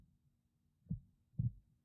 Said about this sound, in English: even as my own breath and heartbeat grow increasingly loud in my ears